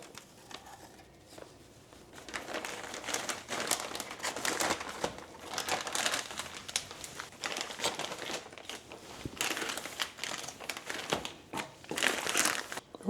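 Baked treats are packed into plastic freezer bags in a home kitchen, with continuous close crinkling and rustling of plastic in irregular bursts over several seconds.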